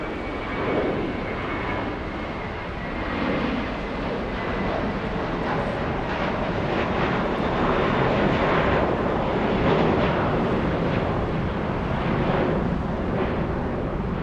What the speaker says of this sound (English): capture the landing of Korean 11